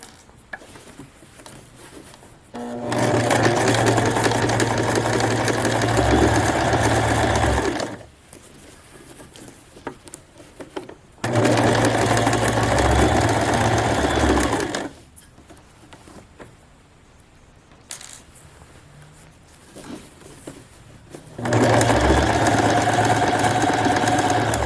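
Sewing machine stitching a false cuff hem on pants, three long runs of steady, loud motor whirring and needle chatter broken by quiet pauses, with no talking.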